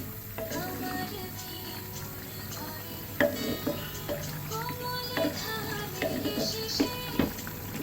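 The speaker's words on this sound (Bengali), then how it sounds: "ভালো করে নেড়ে চেড়ে দিচ্ছি।" Bottle gourd curry with fresh coriander leaves is stirred in a cooking pot, soft sizzling under scattered scraping and clinking of a spoon against the pot, close and fairly quiet.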